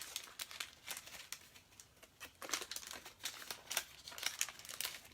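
A sheet of paper folded in half again, with a dense run of close, crisp crinkles and rustles that come in uneven bursts, with no voices.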